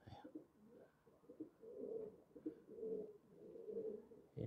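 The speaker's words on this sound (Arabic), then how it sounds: "الحمام ردت رجعت هون" Pigeons coo repeatedly in a loft or coop, a series of soft rolling calls that rise and fall close by, with light background noise between them.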